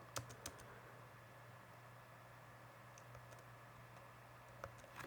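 Laptop keyboard keys tapped in a few sparse, light clicks, mostly near the start and end, over a faint steady background hum in a quiet room.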